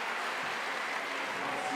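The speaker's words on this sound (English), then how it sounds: "a huge cheer from the crowd to send her on her way" A crowd at a women's bouldering final in Meiringen 2022 cheers and applauds a climber's flash, a dense sustained roar with a faint voice beneath it.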